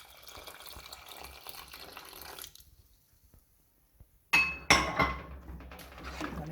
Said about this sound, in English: I'm gonna add my coconut milk to the pot.